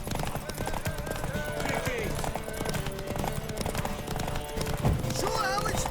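Galloping hooves pound continuously through a horse race in The Witcher 3, fast and close, with people talking and shouting over the drumming beats and a brief whinny near the end.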